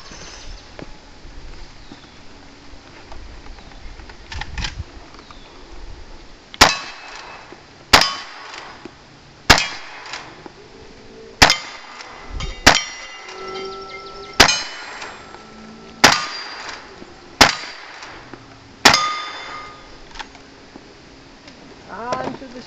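Shotgun fire at a cowboy action shooting match in Ripon, Wisconsin: about a dozen sharp, loud bangs, each ringing with a metallic clang, come in a fairly even rapid sequence of roughly one every second or two.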